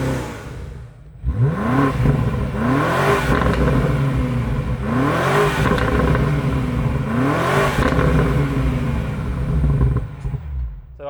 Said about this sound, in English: You can just go straight into M1 and the V8 will come alive